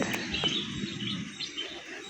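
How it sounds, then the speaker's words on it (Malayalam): Small birds chirp in the morning open air, with a few short, faint high tweets scattered over a quiet ambient background. "കിളികളുടെ സൗണ്ട് കേൾക്കാൻ നല്ല രസമാണ്"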